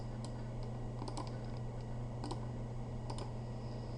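Someone types an address on a computer keyboard, with quiet, irregular clusters of key taps over a steady background hum and no talking.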